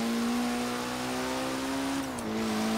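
A modified, non-stock sports car engine from a Forza racing game car pack holds a steady high rev. Its pitch dips briefly near the end and then settles again, loud and close, with no talk over it.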